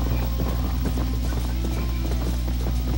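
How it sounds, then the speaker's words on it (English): A horse gallops in the Red Dead Redemption video game, its hooves pounding in a fast, steady rhythm that stays loud and close throughout. "The horse can't keep up with my stallion."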